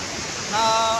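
Rushing water from Tahuli waterfall near Ambernath, a broad steady roar of heavy flow that swells slightly louder midway, with no clear talk over it.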